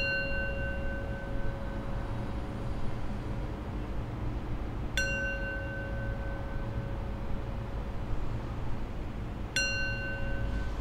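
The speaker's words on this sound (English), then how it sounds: "I'll close practice with 3 rings of the bell" A meditation bell is struck to close a mindfulness practice, with two clear rings about five seconds apart, each sounding a bright metallic strike that hangs over a steady ring from an earlier strike, all heard alone against soft room noise.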